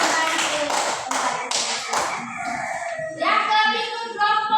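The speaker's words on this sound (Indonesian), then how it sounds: "silakan tepuk tangan untuk kelompok 3" A classroom of pupils claps for group 3, a brief burst of sharp, fairly close hand claps that fades after about two seconds, followed by voices talking.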